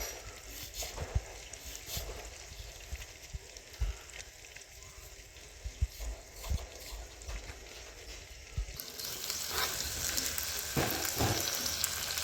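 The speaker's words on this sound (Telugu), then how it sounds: "చింత చిగురు మరీ ఎక్కువ ఫ్రై కానియద్దండి" Tamarind leaves fry in a pan, giving a steady low sizzle with occasional stirring clicks that swells louder and brighter near the end; no voices.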